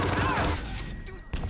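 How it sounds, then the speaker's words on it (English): A shotgun fires in a one-on-one video game duel between ARSENY and Base, a quick heavy blast followed by a second sharp report a moment later, over faint game noise. "Say hello to my shotgun."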